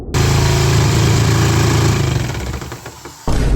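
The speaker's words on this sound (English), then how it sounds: "So I decided to give the engine one last chance." A homemade combustion engine with its carburetor removed, running on starter fluid, roars loud and steady for about three seconds, then cuts out abruptly before a brief burst returns at the end.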